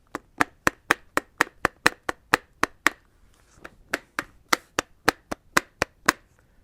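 Roller skate wheel spinning on a too-loose bolt, giving a steady run of sharp, evenly spaced clacks, about three per second and close up, with a brief irregular pause midway and no talk.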